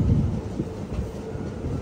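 A train pulls in toward Srinagar railway station on the Banihal line, a loud steady low rumble with rolling clatter, no voices.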